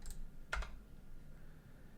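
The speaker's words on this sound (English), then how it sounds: "I'm just going to hit return here" A single key press on a computer keyboard, the return key struck once in a quiet room, a short near click standing alone with no other sound around it.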